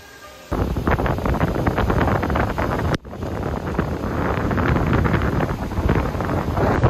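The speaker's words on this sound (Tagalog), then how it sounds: "Sobrang lakas ng hangin no" Strong wind roars and buffets the microphone continuously, loud and gusty, with a brief dropout midway before the rushing resumes, on Boracay.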